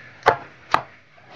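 Two sharp knife strikes a half-second apart, crisp and close, on fresh ginger being peeled and trimmed on a board, with quiet in between.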